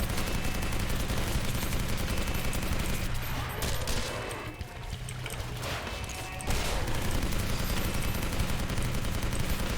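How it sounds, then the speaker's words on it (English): Dense, relentless weapon fire in a video game battle, a loud continuous barrage of rapid shots that briefly thins out midway before surging back at full intensity. "Just keep firing, hope for the best."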